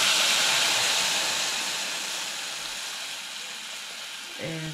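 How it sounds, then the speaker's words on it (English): Boiling water pours and hisses loudly into a hot pan with ginger, the sizzling fading gradually, then a brief clatter at the end. "That was about a cup of boiling water."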